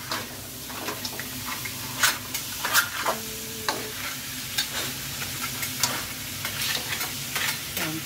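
Crab stir-fried with curry powder sizzles in a pan while a spatula stirs and scrapes in irregular bursts, close and moderately loud.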